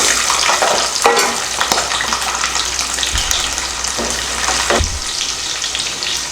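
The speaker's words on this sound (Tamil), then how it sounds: "வெங்காயம் பூண்டு வதங்கிடுச்சு." Onion and garlic fry in oil with curry leaves and fenugreek for a curry leaf kulambu, giving a loud, steady sizzle broken by occasional stirring scrapes and clinks, close and continuous throughout.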